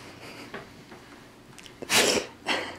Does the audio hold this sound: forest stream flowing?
no